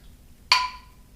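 A canning jar lid seals with a single sharp metallic ping and a brief ringing tail after pressure-canning venison, clear and close in a quiet kitchen.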